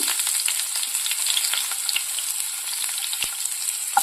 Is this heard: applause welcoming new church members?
no